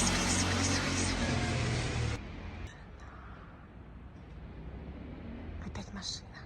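A car passes on a street at night, its loud rushing noise close for about two seconds before cutting off to a much quieter background with faint distant sounds.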